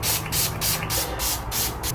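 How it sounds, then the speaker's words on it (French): Hair spray hisses from a can in several short bursts in quick succession, close and loud, with no talking. "Je vais mettre juste un petit spray"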